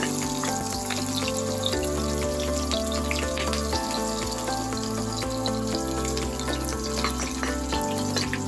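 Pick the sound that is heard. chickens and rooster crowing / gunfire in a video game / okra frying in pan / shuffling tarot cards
okra frying in pan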